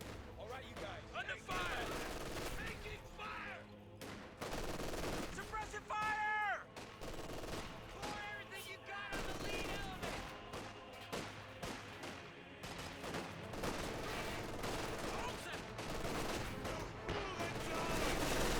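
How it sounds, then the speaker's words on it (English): Company of Heroes 2 battle during a Pack Howitzer white phosphorus barrage: dense, continuous gunfire and explosions rumble throughout, with scattered sharper blasts, under game effects and a commentator talking over the action. "Another white phosphorus barrage coming on in from the Pack Howitzer."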